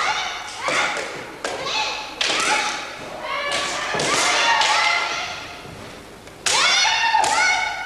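Kendo contestants land bamboo-sword blows on armor in a match, giving sharp, repeated cracks and thuds mixed with loud shouted calls as each attack is launched.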